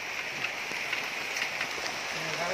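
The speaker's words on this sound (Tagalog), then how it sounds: "Umuulan." Steady rain pours down while people eat native chicken adobo sa gata, an even, moderately faint wash of rainfall continuing beneath close conversation.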